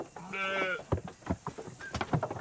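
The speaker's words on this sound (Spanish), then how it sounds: "Dominar el entusiasmo de las ovejas de los Cárpatos, una raza antigua y vigorosa" A Carpathian sheep, an old and hardy breed, gives one clear wavering bleat up close, followed by scattered thumps and movement in a pen around milking time.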